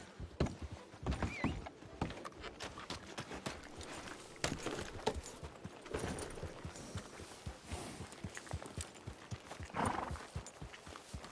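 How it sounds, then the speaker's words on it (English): Horse hooves clip-clop steadily in Red Dead Redemption 2 online, a string of close, regular hoofbeats with occasional louder thumps and faint background game sounds. "Fine horse you got there."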